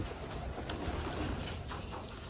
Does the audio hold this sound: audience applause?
no